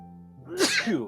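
A single sharp sneeze rises out of a quiet room with a low steady hum, loud and close, followed by a brief trailing breath.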